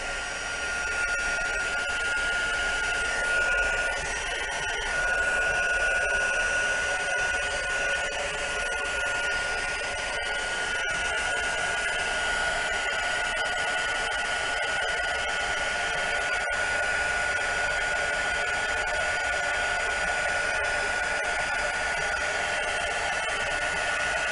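Handheld heat or craft dryer blowing steadily over freshly inked, torn and distressed craft paper, a continuous close whooshing hum with a faint whine lasting the whole stretch, without any talk.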